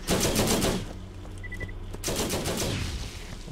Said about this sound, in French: Sur quoi elle tire, ma tourelle?